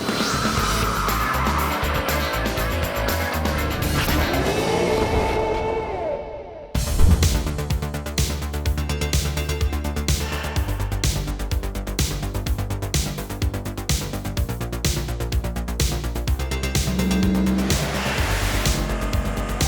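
Ford Mustangs file into the 2019 AmericanMuscle Mustang Show, a large one-day car show, with loud engine revving and rumbling and a brief tire squeal, close and continuous with no talking.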